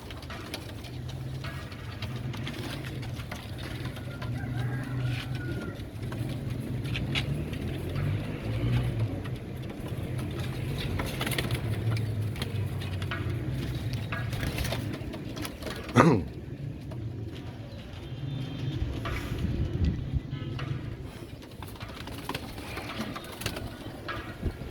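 Pigeons in an importer's loft in Bangladesh coo in low, repeated, overlapping throbs, a steady chorus set against background rumble and one sharp knock.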